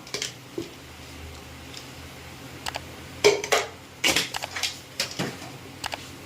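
Masala of chili powder, turmeric and salt fries in a pan for a bitter gourd curry. Sparse, close clinks and scrapes of a spoon stirring against the pan sit over a low, steady background hiss.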